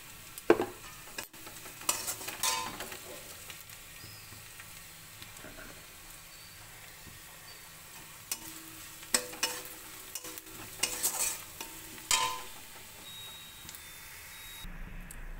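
Dal bubbling in a pot after spiced tempering is stirred in, a soft simmering sizzle with intermittent louder clatters and stirring scrapes, fairly quiet and spread out without talk.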